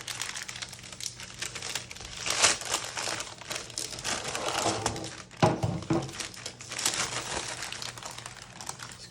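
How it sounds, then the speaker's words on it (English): Parchment paper crackles and crinkles as it is peeled away from risen babka dough, a close, continuous papery rustle with a few sharper crisp bursts and no talking. "when peeling away your paper"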